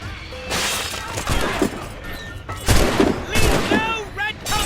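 Musket gunfire in the video game Assassin's Creed Rogue, with several sharp cracking shots and a ragged volley amid battle noise, loud and close, with voices shouting in between.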